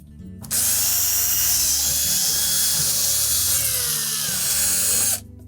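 A power screwdriver drives out number 2 Phillips head screws from the back panel of a Whirlpool range, giving one steady, close whirring run of about five seconds that starts and stops abruptly.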